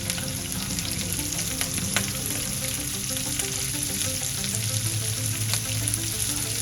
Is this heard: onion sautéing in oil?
yes